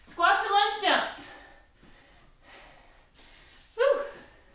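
During a high-intensity workout, someone breathes heavily with loud, sharp gasps and exhales in a few bursts, heard close to the microphone with brief quiet gaps between them.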